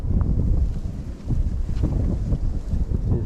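Strong gusty wind around thirty miles an hour buffets the microphone beside water, a continuous loud low rumble with surging gusts and no talk.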